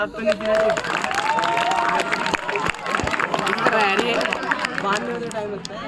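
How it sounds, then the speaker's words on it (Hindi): Audience clapping at a school magic show, a burst of group applause with some chatter and crowd noise mixed in. "ताली बजाओ।"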